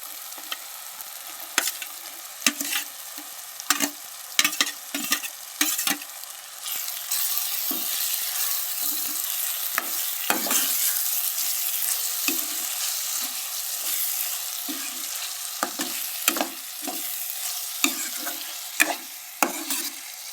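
Fried bhajiya being stirred into a sizzling masala in hot oil, a steady bright sizzle carried under repeated scraping and clinking spoon strokes at an irregular rhythm, close and fairly loud, with no talking.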